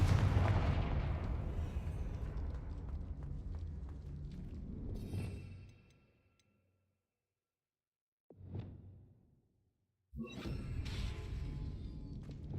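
In the Hogwarts Legacy video game, the Confringo blasting spell sets off a loud booming blast that fades out. After a brief silence comes a short whooshing burst, then another heavy explosive rumble.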